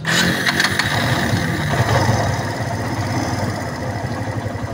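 An engine starts with a rough burst and settles into a steady, slightly uneven idle, close and fairly loud.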